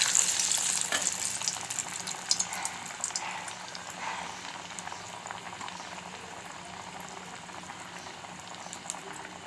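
Tea-shop style masala vadai deep-frying in hot oil over a low flame, giving a steady, dense bubbling sizzle that is loudest at first and eases slightly, close by with no voices.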